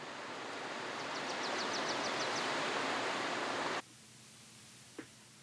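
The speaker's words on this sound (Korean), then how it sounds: "봄이 되면 가장 활기를 띠는 곳은 폭포 주변 계곡이다." Steady rushing water from a waterfall and mountain stream in a Juwangsan valley, with a quick series of bird chirps partway through, before the roar abruptly drops to a much quieter, distant wash with one soft knock.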